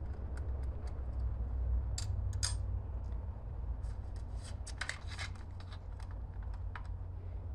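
Screws being removed from the back panel of an ArcDroid Plus plasma cutter controller, heard as close, quiet metallic clicks, scrapes and small handling taps scattered irregularly over a steady low hum.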